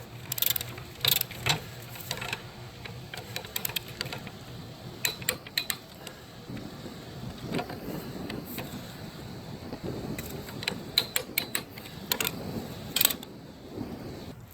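Ratchet clicking repeatedly on a 2-foot extension while torquing bolts to 25 foot-pounds during engine and transmission work on a 2013-2016 Dodge Dart, in short irregular bursts of close metallic clicks over a low rumbling background.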